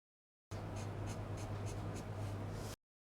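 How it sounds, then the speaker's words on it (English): Scissors cut through fabric for a ruffle skirt, a close, steady rasping snip with faint rhythmic pulses, lasting about two seconds between silences. "Pick my scissors and cut."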